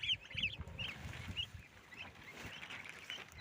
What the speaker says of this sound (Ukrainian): отакі у нас індичатки. І троє гусенят.